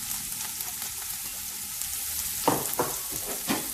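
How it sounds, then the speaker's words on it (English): About three onions fry in hot ghee with a steady, bright sizzle and crackle throughout, and a few stirring scrapes come in toward the end. No voices. "So ghee, and then we're going to add the onion."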